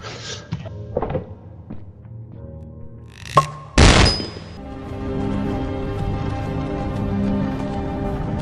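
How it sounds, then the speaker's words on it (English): A homemade flashbang goes off in Lethal Company: a few light knocks and thumps, then a sudden loud burst that rings briefly before settling into a low, rumbling wash of sound. "I just found a homemade flashbang."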